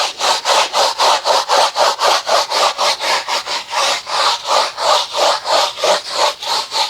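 A stiff brush scrubs rapidly back and forth on a rubber car floor mat with hexagonal grooves, making a loud, even rasping rhythm of about three strokes per second, up close.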